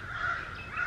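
Crows cawing loudly near a farm where ducks roam in the open, two harsh calls in quick succession filling a one-second burst, close and prominent.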